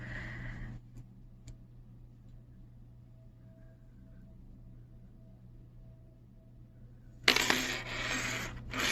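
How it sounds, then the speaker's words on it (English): A bunch of keys drops in a quiet room with a brief metallic jingle at the start, followed by near silence and low hum, then a loud burst of clattering handling noise near the end. "that was my keys"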